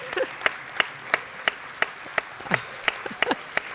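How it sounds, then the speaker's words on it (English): Scattered hand claps from an audience at a 6th and 7th grade school academic awards ceremony, honoring parents; sparse, separate claps spaced at uneven intervals, moderately close and fairly quiet, with no talking. "let's give them a round of applause for getting you through this year"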